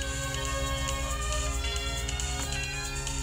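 A phone ringtone plays continuously with a bright, layered electronic tone, fairly steady and moderately loud, with no voices heard.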